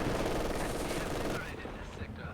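MG42 machine gun fire in Company of Heroes 2, a dense, loud stream of rapid automatic bursts over battlefield noise, thinning out after the first second and a half.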